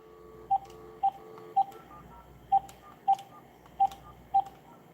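Seven short, evenly pitched keypad beeps from a cell phone being dialed, tapped at an uneven pace over a quiet background hum.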